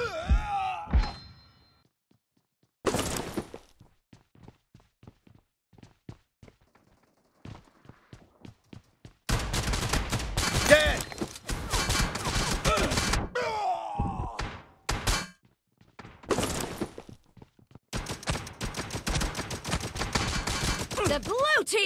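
Bursts of gunfire in a fast-paced shooter video game, with loud rapid volleys and scattered single shots separated by quieter gaps, some of the dense firing running for several seconds.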